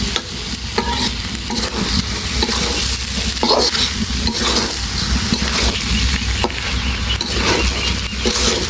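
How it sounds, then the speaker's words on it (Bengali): Rice poured into a hot pot for pulao sets off a loud, steady sizzle with a soft frying hiss throughout and a few faint scrapes. No one speaks. "চালটা দিয়ে দেব চালটা দিয়ে দিলাম"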